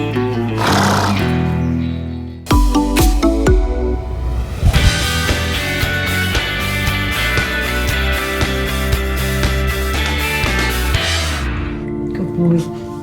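A horse recovering after surgery neighs loudly and repeatedly up close, long shrill whinnies with a few soft knocks and shuffles between calls.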